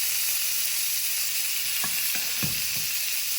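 Pork chops sizzle in a skillet with a steady, bright frying hiss and a low hum. A few soft clunks from stirring or turning the meat come near the end.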